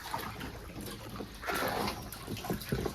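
Beetroot being swished and rinsed in a basin of water during a fourth wash, giving a steady close splashing and trickling with brief surges of sloshing, no talk.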